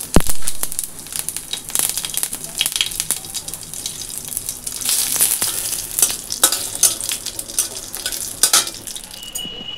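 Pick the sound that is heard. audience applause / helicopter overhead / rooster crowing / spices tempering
spices tempering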